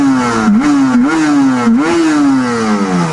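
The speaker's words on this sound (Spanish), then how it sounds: "un pequeño acelerón, ahora que está un poco caliente" A warmed-up Yamaha RD 500 two-stroke motorcycle is loud and close up, blipped through several quick rising revs before settling into a falling drone.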